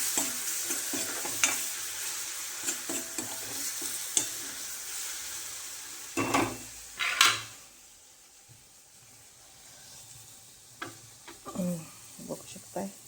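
Spices frying in oil for Maharashtrian buttermilk kadhi sizzle with a steady hiss, broken by clinks and scrapes of stirring and a louder crackle midway, while someone talks softly in places.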